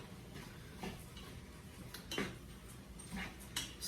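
A spoon stirs turkey soup-stew in a pot, producing faint, scattered clinks and scrapes against the metal over a quiet background.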